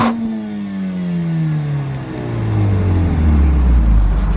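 A 2020 Mercedes-AMG A45 S Edition One engine revs with a falling then rising drone, exhaust rumbling loudly and close, building toward the end.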